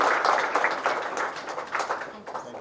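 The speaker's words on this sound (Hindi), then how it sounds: "एक बार जोरदार तालियां सभी विजेताओं के लिए" Loud, lively applause and clapping from an audience for student competition winners at a Chandigarh Police diamond jubilee event, rising and falling in waves, with a voice briefly heard over it.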